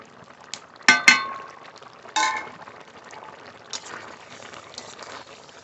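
Cut potatoes and drumstick pieces are rinsed in water, giving a few splashing, clinking bursts against the bowl followed by quieter trickles and sloshes.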